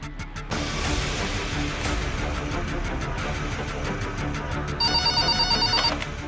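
In a Hindi TV serial scene, a telephone rings on a call to City Hospital. A bright, trilling electronic ring bursts in near the end over a steady, dense background hum.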